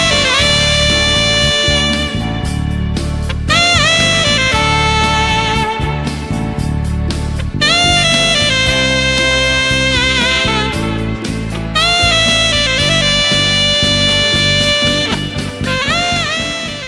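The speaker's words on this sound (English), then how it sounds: "this instrument is a saxophone" An alto saxophone plays a lively melodic line over a steady backing accompaniment, loud and continuous throughout.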